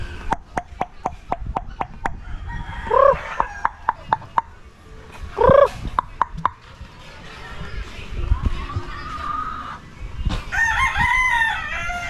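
Chickens cluck repeatedly in short bursts around a farmyard while a rooster crows a couple of times nearby, with people talking intermittently in the background.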